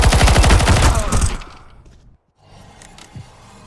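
Rapid automatic gunfire in Counter-Strike: Global Offensive, a loud burst of repeated shots for over a second before cutting off, followed by quieter game sounds and a faint click.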